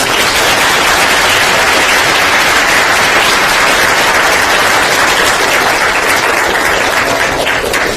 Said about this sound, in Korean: 큰 박수로 감사드립니다